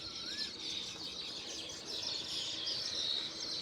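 A weaver bird calls amid a busy backdrop of chirping birds and hen clucks, a brief rising note standing out early over a continuous high twittering chorus.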